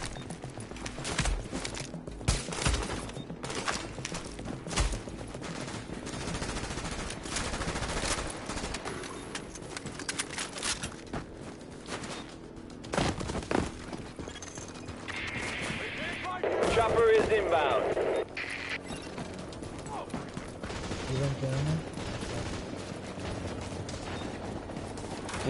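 A submachine gun fires in The Division with rapid clattering bursts over dense, loud game noise, with a voice talking over the action.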